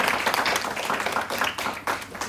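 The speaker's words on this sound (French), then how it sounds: "Est-ce qu'on peut l'applaudir, s'il vous plaît?" A church congregation at a family celebration service claps for a reader, a moderately loud spread of applause from a modest crowd, with some murmuring under it.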